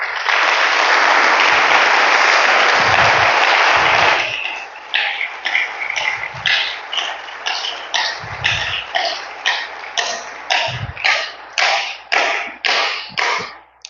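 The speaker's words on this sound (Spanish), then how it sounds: "Démosle un aplauso a Dios." A church congregation applauding during a sermon, a dense burst of clapping for about four seconds that breaks into scattered claps with a few coughs before fading out.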